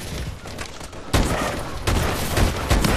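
Gunfire in the video game Call of Duty: Advanced Warfare sounds as two or three loud, abrupt bursts that land about a second apart. Each burst is followed by a noisy rumble.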